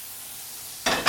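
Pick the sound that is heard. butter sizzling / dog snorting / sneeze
butter sizzling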